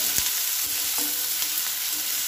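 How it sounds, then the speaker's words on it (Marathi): Finely chopped onion with curry leaves sautés in a pan, a steady close sizzle broken by a few light scrapes and stirs. "कांदा छान परतून घेऊया"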